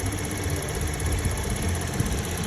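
A 2013 Chevy Impala's 3.6 liter engine runs steadily at idle, with a close, constant low hum and a faint rhythmic ticking throughout.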